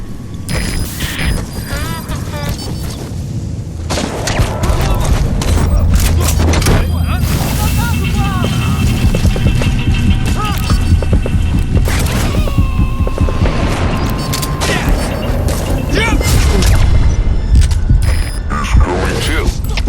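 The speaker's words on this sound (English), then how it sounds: "Begin cover fire." Sustained game combat with dense gunfire bursts and heavy explosive booms from Metal Gear Solid V: The Phantom Pain, loud and continuous throughout, with mechanical clanks and radio-style voices mixed in.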